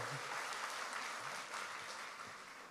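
Applause from an audience at a song contest for a singer: steady, dense clapping at moderate distance, with no voices on top.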